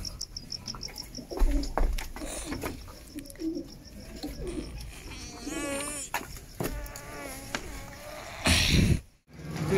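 Pigeons coo in low, throaty warbles amid outdoor clatter and a constant insect-like hiss, with a loud rustle near the end.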